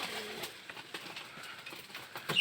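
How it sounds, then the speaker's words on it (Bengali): Pigeons in a coop give soft, low cooing calls, with brief flutters and rustling, faint and fairly close, with no talk over them. "এই যে পাখিগুলো উড়ি করতেছে ডিম পাড়ার জন্য, তারাও খোপের ভিতরে যাইতেছে"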